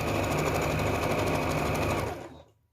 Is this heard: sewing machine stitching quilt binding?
yes